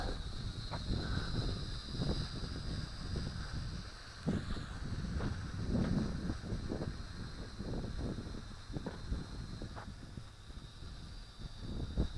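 Gusty outdoor wind buffets the microphone in a continuous, rumbling roar during a Syma X5C quadcopter test flight, with occasional soft thumps mixed in.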